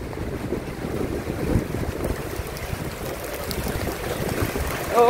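Sudden rain on a construction site in Malaysia, a dense continuous wash of falling water with a low rumbling undertone that swells slightly toward the end, heard without speech.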